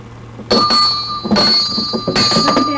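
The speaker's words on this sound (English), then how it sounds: "Ring your bell." A bell on a child's toy car rings out in loud, bright dings, two clusters of quick strikes with a lingering ring between them, close by in a room.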